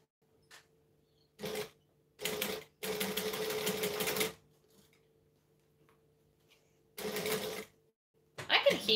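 Short bursts of a sewing machine stitching fabric, several quick runs and one longer steady whir, separated by quiet pauses with small handling clicks; close and moderately loud, with no talk.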